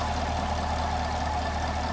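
Chevrolet Camaro SS with its GM engine running at a steady, smooth idle, a continuous low rumble with no talking over it.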